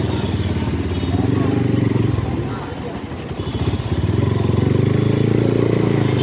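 A Taro GP 1 V3 motorcycle riding through traffic around Hatirjheel, its engine droning steadily up close with a brief dip and rise, while a voice talks over it.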